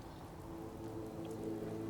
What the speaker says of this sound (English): it is kinda hard to see because it is raining